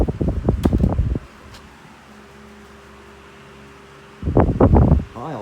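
A 1981 Dayton (Lasko) 16-inch desk fan, model 4C508B, runs on high with oscillation, giving a steady low whir and hum. Louder bursts open and close the passage, with a quiet stretch of steady running between them.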